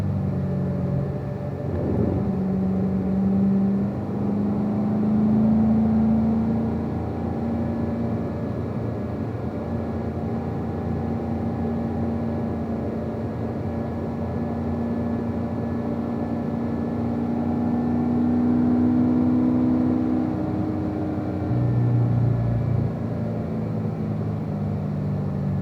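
A car's engine drones steadily through a lead-follow session on a racetrack, its pitch shifting as it eases off and accelerates out of a corner, with constant road and wind rumble and no talk.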